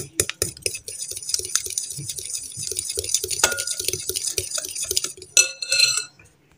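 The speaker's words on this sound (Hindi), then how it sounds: "चीनी और एग को अच्छे से बीट करना" Eggs and sugar are whisked in a bowl for a chocolate brownie cake, a quick rhythmic run of utensil taps and clinks against the bowl's side, fairly close, with no talk.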